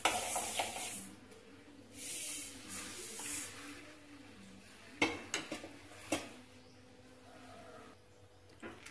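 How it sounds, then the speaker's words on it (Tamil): Chana dal being dry-roasted on a low flame and stirred in a pan for homemade kuzhambu chilli powder. A metal spoon scrapes and clinks against the pan in irregular bursts, and a soft hiss of stirring grains carries between the strokes. "கடலைப்பருப்பு வந்து சிம்மில் வச்சு செஞ்சால் தான் நல்லா வறுவடும், இல்லாட்டி ஒவ்வொரு இதாக கறிக்கும், அதனால சிம்மில் வச்சுட்டே வறுக்கிறேன்"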